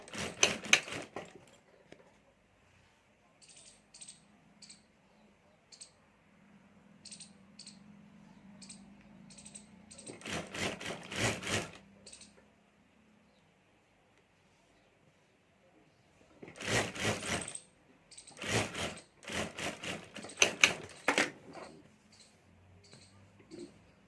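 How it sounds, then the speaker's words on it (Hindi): A sewing machine stitches a pocket onto a homemade multi-pocket card holder purse in several short, rapid bursts. Quiet speech fills the pauses between the bursts. "और अब यहाँ हमें सिलाई कर देनी है"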